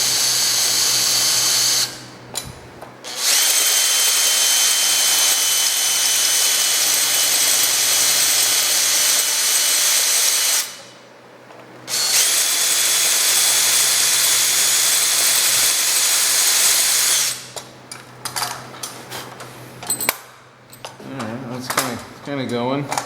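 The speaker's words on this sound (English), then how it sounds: "So this is the classic rivet problem. It wants to rotate." A power drill whines loud and close as it drills out a rivet that keeps spinning, in two long bursts separated by a brief pause, followed by clattering and a short stretch of speech.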